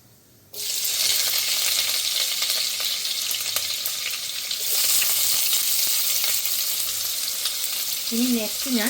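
Mustard seeds spluttering and frying in hot oil, the first step of a Kerala ivy gourd thoran. The sizzle starts abruptly after a brief quiet moment and continues loud and steady, with a short tonal sound near the end.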